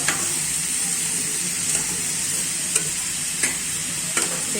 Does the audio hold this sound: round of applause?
no